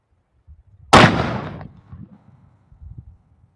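A single CVA black powder muzzleloader rifle shot fired outdoors, one sharp loud boom with a short decaying tail, followed by faint low rustling.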